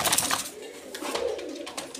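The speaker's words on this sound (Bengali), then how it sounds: "এখানে দেখতে পাচ্ছেন আরেক জোড়া কবুতর, জার্মান লং পিসটা হলো নর আর মাক্সিটা হলো মাদি" Pigeons of the German long face breed, a pair of male and female, give soft cooing calls at close range in a loft, with some shuffling and background noise and no talking.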